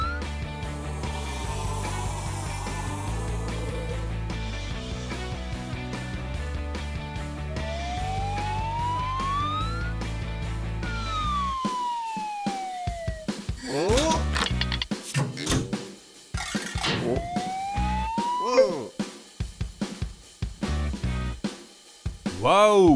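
A cartoon ambulance siren wails and sweeps up and down in pitch amid cartoonish music and effects, loud and close, with bursts of clattering sound.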